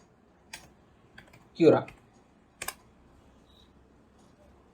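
A few sparse, isolated clicks from a computer keyboard as Ultimaker Cura is typed, faint and spaced apart, with a brief spoken word in the middle.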